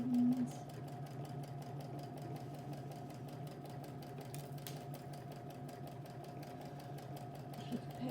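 A sewing machine stitches the seam of a tote bag in a children's sewing session, a steady rapid mechanical whir with even stitching pulses, fairly quiet and continuous.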